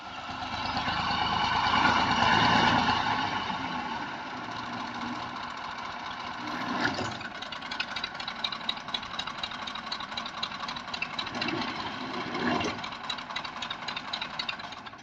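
A 1984 Massey Ferguson 240 tractor drives a 54-blade rotavator in a Punjab field, its diesel engine rumbling close and loud, swelling under load, then settling into a rapid, knocking chug with occasional surges.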